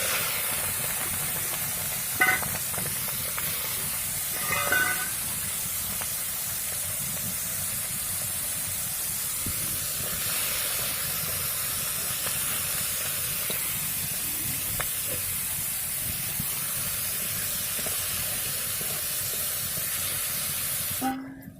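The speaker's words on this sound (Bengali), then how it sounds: "আমি চিংড়ি মাছগুলো ভালো করে ভেজে নেব" Prawns fry in hot oil in a wok on a lit stove, giving a continuous hissing sizzle that holds steady close by for the whole stretch, with a few faint clinks and no talking.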